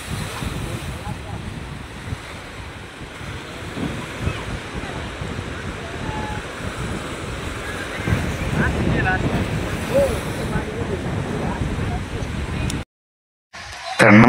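Water waves and wind roll across the full Jayakwadi dam reservoir, a steady rushing wash of surf and gusting microphone wind, loud and continuous, cutting out briefly near the end.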